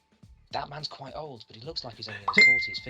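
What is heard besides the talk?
phone notification chime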